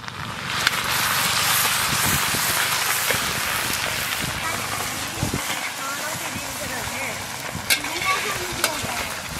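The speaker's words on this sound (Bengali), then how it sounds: "পেঁয়াজটা ভাজা হয়ে গেছে, এবার আমরা দেবো রসুন আদা।" Garlic and ginger paste sizzling in hot oil in a wok for a big carp fish curry with bottle gourd, a steady broad frying hiss with stirring clatter throughout, fairly close.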